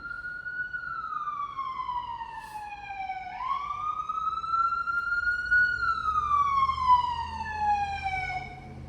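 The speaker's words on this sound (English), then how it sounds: "There's a siren to confirm for us." A wailing siren sweeps slowly down, rises again, holds, then falls, loud and clear over a faint low rumble.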